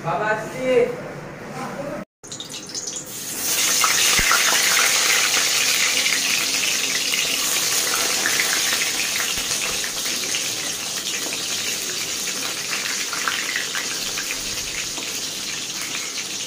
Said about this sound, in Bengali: আলুগুলোকে জলে ধোবো ভালো করে